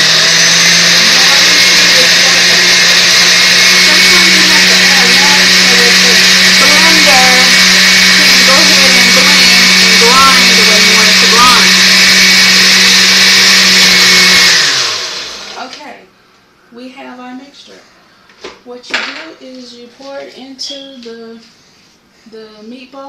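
Kitchen blender grinding sauce ingredients for turkey meatballs with romaine lettuce sauce, a loud steady whirring drone that runs for about fifteen seconds and then cuts off, leaving quieter clatter and handling sounds.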